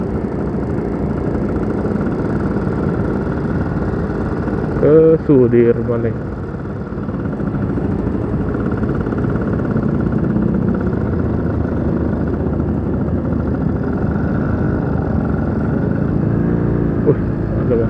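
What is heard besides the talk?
custom motorcycle engine while riding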